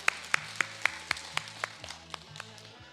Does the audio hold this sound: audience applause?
yes